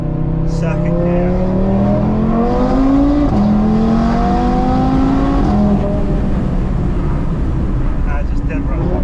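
A 540 bhp Audi TT RS with an APR Stage 2 tune and a five-cylinder engine pulls hard through the gears, its loud, rising engine note climbing, dropping at a shift, then climbing again, heard from inside the car.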